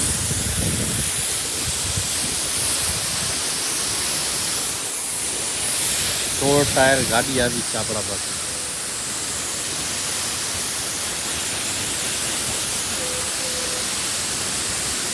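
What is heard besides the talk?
pressure washer spraying water on a truck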